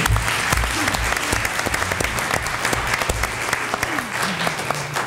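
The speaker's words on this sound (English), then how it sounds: "Another round of applause, please." A crowd at a school board meeting applauds steadily throughout, a dense wash of clapping at even loudness with no pauses.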